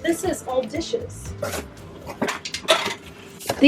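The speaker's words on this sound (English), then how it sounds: "These are old dishes that I used to use, and I don't know why they're all taped up" Old taped-up dishes clatter and clink as they are handled and sorted during a home decluttering, several sharp ceramic knocks and rattles spread unevenly, close by, with faint talk in between.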